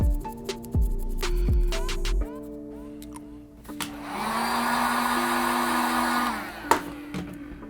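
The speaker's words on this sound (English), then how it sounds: "use a heat gun after every coat" A heat gun blows hot air over freshly painted Air Jordan Cool Grey 3 sneakers, giving a steady whirring rush for about two seconds midway, framed by scattered tones and taps.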